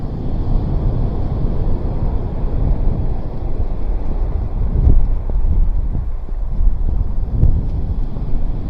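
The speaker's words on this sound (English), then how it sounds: "And the wind's picked up" Steady wind buffets the microphone on a shingle beach, a continuous low roar with gentle gusts rising and falling, loud and unbroken throughout.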